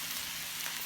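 Butternut pieces dropped into a hot curry pan for a Thai green chicken curry, giving a steady, fairly close sizzle that holds evenly for just under a second with no talk.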